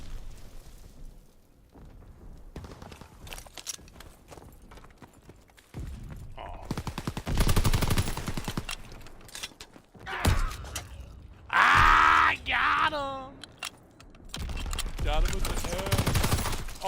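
Gunfire in an online shooter video game: bursts of rapid automatic fire and single shots come in clusters, with a loud sweeping effect and explosions mixed in, close and dense at times, with pauses between.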